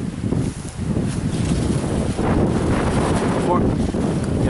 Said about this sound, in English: The wind is just crazy today.